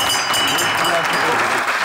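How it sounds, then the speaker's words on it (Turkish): A studio audience at a Turkish comedy sketch show applauds, loud dense clapping running continuously with a crowd murmur beneath. "Alkışlar Yasin de zilde."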